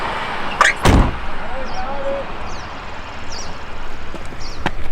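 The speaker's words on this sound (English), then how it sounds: "Close the door on him. Come on, close the door." A car door closes with a single solid thud near the start, followed by a faint thump and low cabin ambience, with small squeaks and rattles afterward.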